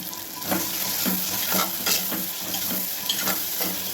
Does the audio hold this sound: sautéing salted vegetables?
yes